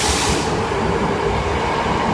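Train pulling away from a station platform in Japan, a loud, close rolling rumble with rail noise and a hissing wash, steady for the whole stretch and free of talk.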